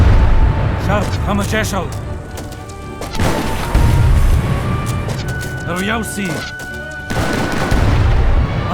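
Booming Age of Empires 3 explosions and crashing impacts roll continuously under voices speaking, with heavy low rumble throughout.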